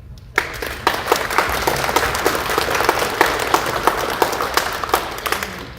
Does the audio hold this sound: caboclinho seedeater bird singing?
no